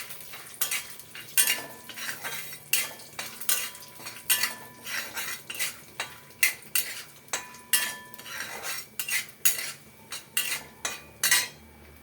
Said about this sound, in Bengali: বাদামটা আগে একটু ভাজা ভাজা করে নিই।